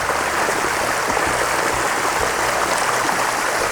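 Water pours steadily over a backyard pond waterfall, a continuous close rushing splash that stays even and unbroken throughout, with no voices.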